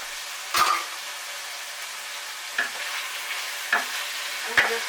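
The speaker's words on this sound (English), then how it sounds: "I'm just going to stir that up again." Food frying in a pan with garlic, stirred in a few separate bursts of scraping over a steady low sizzle, with no talk.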